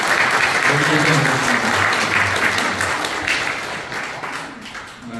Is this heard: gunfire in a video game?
no